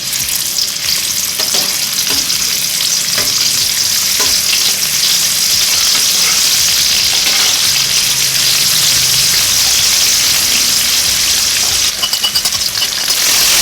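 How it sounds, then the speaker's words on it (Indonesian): Shallots fry in oil in a wok, a loud continuous sizzle and crackle with occasional scraping and stirring clatter as the pieces are moved around. "tuangkan minyak ke dalam wajan, lalu masukkan bawang merah"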